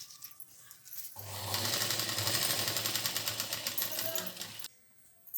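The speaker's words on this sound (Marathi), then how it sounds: "पूर्ण दोन इंचाची शिलाई अशी ही मारत जायची" Sewing machine stitching a two-inch hem on a petticoat, a fast rhythmic mechanical whirr that starts abruptly, runs steadily for about three and a half seconds and stops, close and moderately loud.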